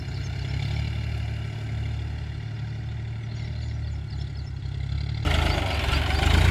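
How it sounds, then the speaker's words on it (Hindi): A loader works at a colony construction site, its diesel engine holding a steady low idling rumble throughout, then growing louder and heavier near the end as it works harder. "भाइयों देखिए, कॉलोनी में काम करता हुआ लोडर,"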